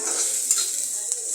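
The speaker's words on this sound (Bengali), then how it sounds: "তারপর একটি কড়াইয়ে তেল দিয়ে তাতে পেঁয়াজ কুচি দিয়ে ভালো করে ভেজে" Chopped onions frying in oil in a wok, with a brief, steady hiss of sizzling broken by a couple of light stirring taps.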